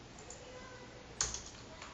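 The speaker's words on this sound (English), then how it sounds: "I want to type it in" A few quick keystrokes on a computer keyboard click near the middle, light and close over a quiet room hum.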